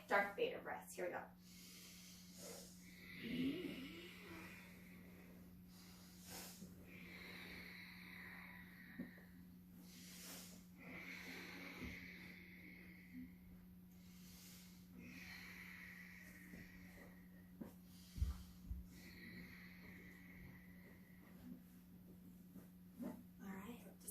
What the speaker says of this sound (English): 5 Darth Vader breaths